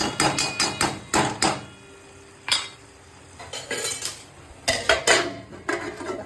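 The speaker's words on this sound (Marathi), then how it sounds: "झाकण लावूया" A metal lid is set onto a pan of cooking pasta, giving several sharp, close metallic clanks and clatters in quick bursts with quieter gaps between, and no one talking.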